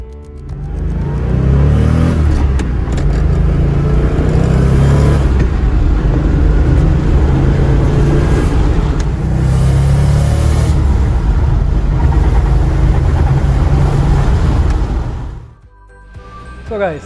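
A Porsche 911 (930) Turbo engine runs steadily and loudly up close for about fifteen seconds after a transmission rebuild, with shifts in revs, then cuts off abruptly near the end.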